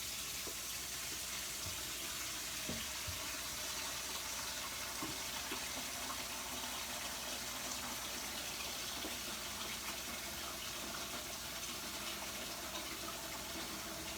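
Water runs steadily from a kitchen tap into the garbage-disposal side of a double sink, a continuous even rush of filling water heard alone at close range.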